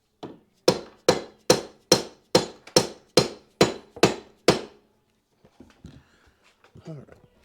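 Hammer tapping a 2024 Suzuki DF25A outboard motor sideways on its mount: ten sharp, evenly spaced metallic knocks close by, followed by a few faint clicks and a brief voice.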